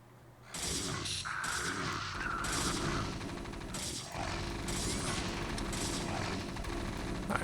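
Units attacking and breaking down a wall in the video game StarCraft, a sustained loud barrage of rapid gunfire and explosions that runs almost continuously.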